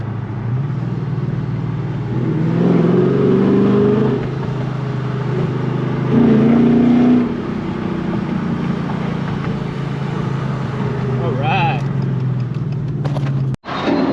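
A 2009 Dodge Charger SRT on Atturo AZ850 315/35/20 tires accelerates with a loud, steady engine drone that rises and swells around a gear change into second, heard close from inside the car and ending in a sharp cutoff.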